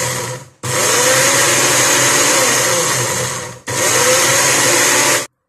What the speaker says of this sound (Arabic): هاد 250 غرام كنطحنوها في الخلاط الكهربائي